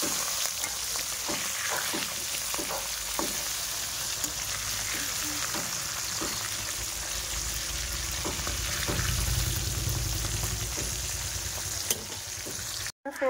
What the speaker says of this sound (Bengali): মাছগুলো আমি ভাজা করতে বসিয়ে দিয়েছি